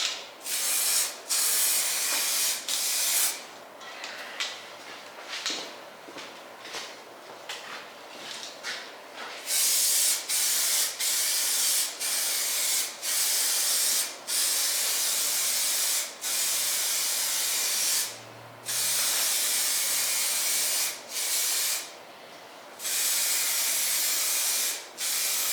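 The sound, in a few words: spraying a coat on windshield frame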